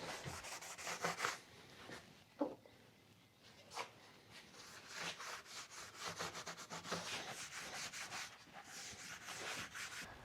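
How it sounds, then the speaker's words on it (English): Hand sanding of a wooden shelf in quiet, irregular rubbing strokes, fairly faint and close, with a few sharper scrapes early on. "We're gonna give it a quick sand"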